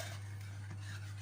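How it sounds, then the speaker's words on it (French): Chocolate cream being stirred steadily in a saucepan, a continuous soft scraping and swirling close up, with a constant low hum underneath and no voices. "on mélange et on mélange et on mélange parce que ça va vite épaissir"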